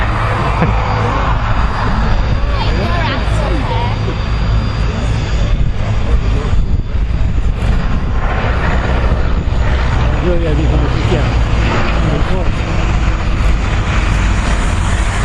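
Vintage aircraft fly over the Duxford airshow, their engine drone loud and continuous throughout, with a spoken voice over the top.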